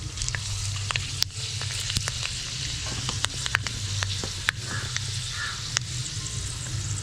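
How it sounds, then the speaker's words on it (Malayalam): Mustard seeds and fenugreek sizzle and pop in hot oil while a Kerala fish curry is being made. It is a close, continuous frying hiss with scattered sharp crackles, and no one speaks over it. "കടുക് പൊട്ടിക്കഴിഞ്ഞാൽ കുറച്ച് ഉലുവ ചേർക്കാം."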